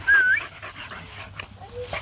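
Several female dogs run outdoors, one giving a sharp high whine, followed by softer yips and whimpers scattered across a couple of seconds, fairly close.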